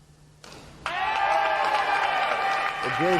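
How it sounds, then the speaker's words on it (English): Teammates and competitors applaud at an aquatic center after a platform diving final, a burst of clapping that starts abruptly and holds steady and loud, with a brief whoop near the end. "She gets a nice round of applause from her teammates and the other competitors"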